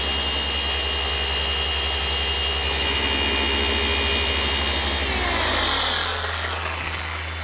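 A machine polisher works car paint on a BMW M2, giving a loud, steady motor whine that runs continuously before easing off slightly near the end.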